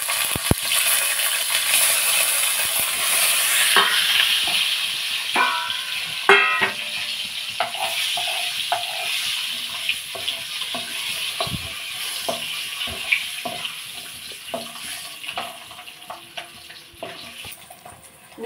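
Beaten eggs frying in a pan with turmeric for a capsicum curry, a steady close sizzle with scattered scraping and stirring taps throughout.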